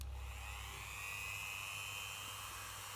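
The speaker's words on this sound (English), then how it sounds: "then the Dremel will be switched on. Just put it on a low speed" A Dremel rotary tool runs steadily at low speed, giving a continuous high whine with a low hum beneath, heard alone and fairly faint.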